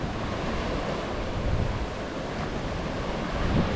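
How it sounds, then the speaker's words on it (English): Sea waves washing onto a beach at night in Dubrovnik, Croatia: a steady, broad surf roar with soft swells and wind noise on the microphone, no voices. "This is the beach at night."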